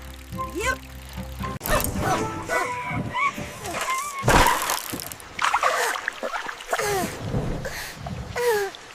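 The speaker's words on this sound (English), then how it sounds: "Baby puppy bark." A puppy barks and yips in quick excited bursts, with a few whimpers between them, close and lively, over a faint watery splashing background.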